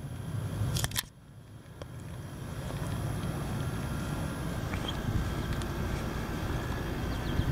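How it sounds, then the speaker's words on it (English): Wind blows steadily outdoors with a constant broad rushing roar, preceded by a couple of sharp clicks near the start. "The wind. There you have it."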